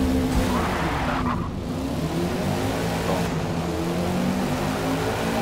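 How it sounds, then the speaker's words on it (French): A Ford Mustang GT in the racing game Forza Motorsport roars steadily at high revs, a continuous loud engine drone with a brief tire-scrub flutter, driving under career-mode conditions. "Ford Mustang GT."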